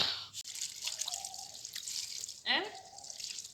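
Water splashes and drips as fresh green coriander leaves are rinsed by hand in a village kitchen, a close, steady trickle and dripping with someone talking over it.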